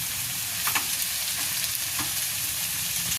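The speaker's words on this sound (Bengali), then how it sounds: "তো পেঁয়াজগুলোকে আমি 2-3 মিনিট নাড়াচাড়া করে নিলাম।" Onions being stirred and fried in a pan on low heat, a steady close sizzle with a couple of soft scraping stirs breaking through.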